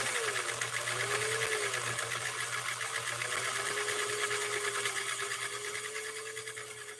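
A sewing machine stitches a cam C embroidery pattern, number 3, in a continuous fast whirring hum with a steady rhythmic chatter close by and no talk.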